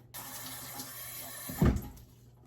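Water poured over sweet potatoes in a container gives a faint, steady trickle, then a short louder splash near the end. No one speaks.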